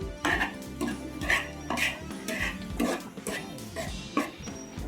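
Gram flour being stirred into batter in a pot, a run of irregular scraping and clinking of a spoon against metal, close by.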